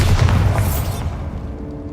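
A Bombarda spell blast in Hogwarts Legacy, a loud low booming burst at the start that rolls off into a fading rumble with a bright crackling tail.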